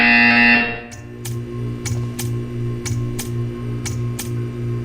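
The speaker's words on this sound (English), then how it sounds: "You will hear a buzzer." A loud, harsh electronic buzzer blares briefly in the video game Portal 2, then cuts off, leaving a low mechanical hum with a string of sharp clicks.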